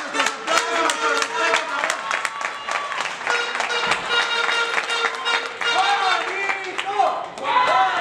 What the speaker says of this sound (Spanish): Pequeño Star, ese es nuestro aplauso.